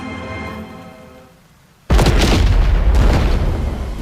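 A daisy cutter bomb detonates in ArmA 3 SOG, a massive sudden boom that erupts after a quieter stretch and rolls on as a loud, sustained rumbling blast.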